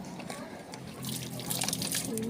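Water poured out in a steady splashing stream that grows louder partway through, with people talking nearby over a low background hum.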